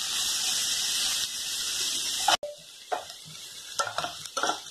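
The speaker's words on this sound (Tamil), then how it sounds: "வெங்காயம் கொஞ்சம் நல்லா வதங்கட்டும்." Onions sautéing in a pan for tomato sambar: steady sizzle for the first half, then a sharp break and quieter stretches with scattered bursts of stirring and scraping, no voices.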